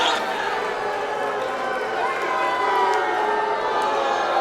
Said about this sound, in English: Holidead soaking in the jeers, the boos, the lack of adulation from this live crowd here at the Belasco Theater